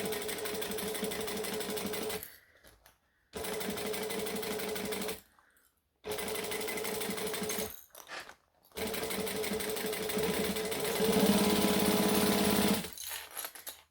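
A sewing machine runs a full seam allowance around a Catalina crossbody bag in four close, loud bursts of fast, even stitching, each stopping for a short pause before starting again.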